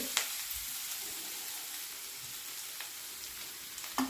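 Mango pieces being stirred into a curry frying in a pan, a steady close sizzle with faint scraping of the spoon and a few soft knocks, no talking.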